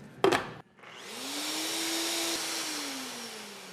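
A countertop blender whirs loudly as it blends an egg, olive oil, salt and pepper into homemade mayonnaise, its motor rising after a short clatter and holding a steady pitch for a few seconds.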